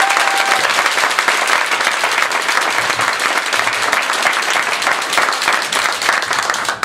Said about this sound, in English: Everyone, a round of applause for Nick.